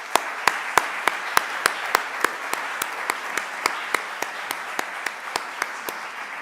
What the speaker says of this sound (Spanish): solicito un caluroso aplauso de bienvenida al Real Casino de Madrid